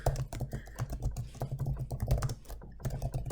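Fingers type rapidly and continuously on a computer keyboard nearby, a dense patter of key clicks with brief uneven pauses and no talking.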